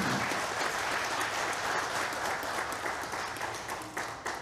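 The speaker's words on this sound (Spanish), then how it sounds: "Dele un fuerte aplauso al Señor." A church congregation claps loudly together, a steady wash of applause that holds strong before thinning slightly toward the end, with no voices on top.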